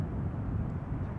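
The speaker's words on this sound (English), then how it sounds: "Next up, KLM Flight 792, arriving from Sao Paulo, 777-300" KLM Boeing 777-300 airliner arriving at Amsterdam Schiphol: a steady, broad low engine roar, fairly close and continuous, with no voices.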